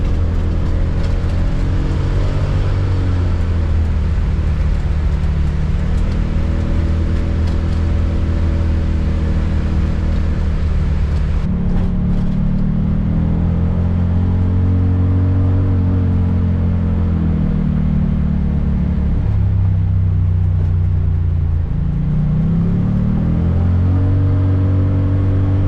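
Turbocharged Can-Am Defender UTV engine revs loud and close, holding steady drones that rise and fall in pitch, with a sharp throttle change near the middle and another dip late, over a constant rumbling drivetrain.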